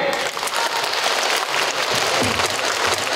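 Sochi schoolchildren applaud at a circus show with young tigers, a steady dense patter of many small hands clapping close by throughout.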